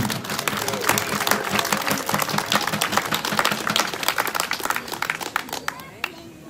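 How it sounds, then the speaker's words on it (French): A crowd at an outdoor citizens' brass-band event claps in a busy, steady patter for a volunteer runner, the applause mid-distance and lasting several seconds before thinning out. "Donc on peut l'applaudir."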